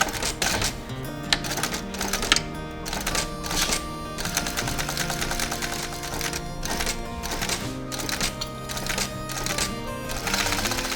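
A sewing machine stitches a leather round-zipper long wallet, giving a fast, even mechanical clatter that runs on without pause and up close.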